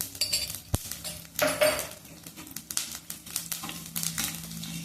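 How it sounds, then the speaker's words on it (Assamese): Panch phoron spices fry in oil in a wok for a sweet star fruit pickle, with metallic spoon clinks and scrapes against the pan over a light crackling sizzle, close and moderately quiet. "আৰু তেলতে মই অলপমান পাঁচফোৰণ দিম।"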